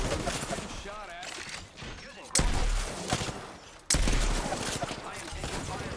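Gunfire in the Apex Legends battle royale game, a steady stream of shots with two sharp, louder bursts midway, mixed with in-game voice lines and effects.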